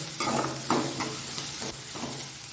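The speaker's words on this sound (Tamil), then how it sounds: "இப்போது வெங்காயம் நல்லா வதங்கிடுச்சு" Onion and salt sautéing in a pan for a spinach poriyal, a continuous close sizzle broken by several scraping stirs of a spoon.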